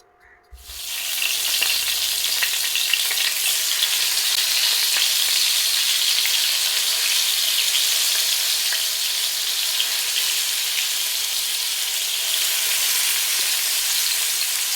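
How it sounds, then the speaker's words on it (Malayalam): Fish fries in a pan of hot oil, with a loud, steady sizzle and crackle that starts abruptly and runs continuously and close. "നമ്മുടെ മീൻ വറുത്ത് ഇവിടെ സെറ്റായി വരുന്നുണ്ട്"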